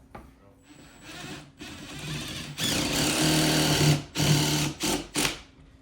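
A power drill drives screws into a wall stud to mount a French cleat bracket, the motor whirring and building in steady bursts that stop and start several times, loud and close.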